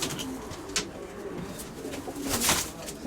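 Pigeons coo in soft, low, throaty calls, fairly close, against a light background hiss with a few brief rustles.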